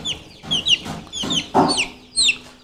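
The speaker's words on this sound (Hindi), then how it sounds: "ये देखो ये छोटे चूजे हैं डे ओल्ड से 1 वीक तक के" Young Ayam Cemani chicks, day-old to one week, peep in quick high chirps: several close, clear bursts in an uneven rhythm with no talking.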